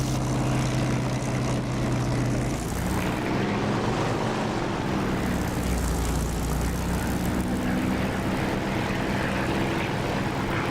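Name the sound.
aircraft landing in DCS flight simulator video game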